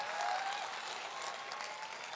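Audience applause at a company success speech event in Agra, a steady dense patter of many hands clapping for about two seconds, fairly far off and with no voices.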